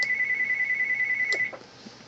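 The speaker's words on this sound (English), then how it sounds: "Why is my phone ringing?" A phone ringtone sounds as a steady high electronic tone with short repeating pulses, then cuts off abruptly, leaving faint room noise.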